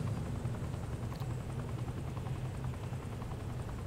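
A helicopter in the video game Saints Row 4 keeps up a continuous low rotor thrum, steady and fairly quiet, with no voices.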